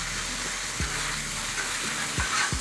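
Chicken sizzles steadily on an indoor grill pan, a constant close frying hiss with a few soft clinks and shifts of the food, no voices over it.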